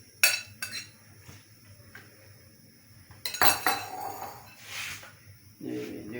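Ingredients added to a kadhai on the stove for a chicken club sandwich, with metal spoon clinks and scrapes against the pan in scattered bursts and a longer stirring scrape, close-up and moderately quiet, with a brief voice near the end.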